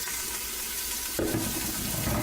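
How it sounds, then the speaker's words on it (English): Onions and garlic tumble into a pot of collard greens with smoked turkey, setting off a sudden wet sizzle and stirring clatter midway that continues steadily to the end, close and moderately loud. "So let's add our onions and garlic"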